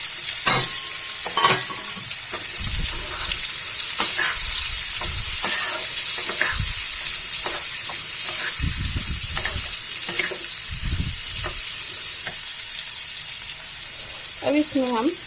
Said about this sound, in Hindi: उसके बाद इसमें हमने 4 प्याज काट के रखा हुआ था, इसे भी डाल देंगे। इसे भी चला लेंगे हम।